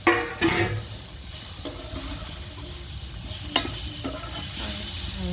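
Capsicum frying in oil for veg noodles, a quiet hiss with a few sharp metallic clinks and scrapes of the spatula against the pan, close by and without speech.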